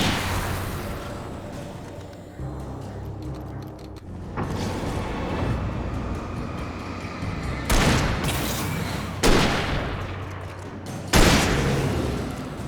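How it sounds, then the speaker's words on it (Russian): Gunfire in the Alan Wake video game, a run of sharp shots and booms popping out over a dense, creaking mechanical game backdrop, with bursts near the middle and end. "пока я по этим стреляю"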